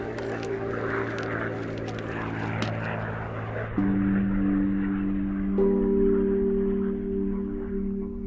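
Steady droning of World War II propeller bomber engines, loud and sustained, with pitch shifting upward as planes pass; speech runs underneath.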